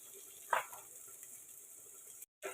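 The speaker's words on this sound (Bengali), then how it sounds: "কিছুটা পেঁয়াজ এগুলো দিয়ে আমি এখন খুব ভালো করে একটু এটাকে ভেজে নিব" Onions, with chillies, frying in a pan: a quiet, steady sizzle with a brief clatter of stirring near the start, then a short drop to silence before the sizzle returns.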